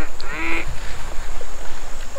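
Ducks quack nearby in short, repeated calls over steady background noise during a canoe trip, with a brief higher squawk early on.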